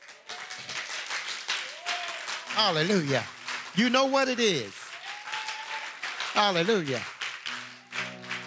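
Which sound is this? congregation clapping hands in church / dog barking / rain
congregation clapping hands in church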